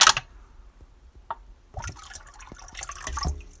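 A hot aluminium drink can from a can-crushing physics experiment is plunged back into a container of water, giving a brief close splash and gurgle followed by faint watery rustling and a louder sloshing near the end.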